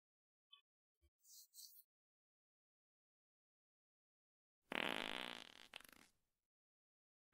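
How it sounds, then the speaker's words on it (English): A fart sound effect plays as a burst of about one and a half seconds, loud and alone, after a few short faint clicks and a brief squeak earlier on. "I heard the fart sound."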